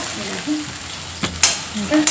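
Spices for tempering sizzle and crackle in hot oil, with green chillies added and a couple of short stirring scrapes.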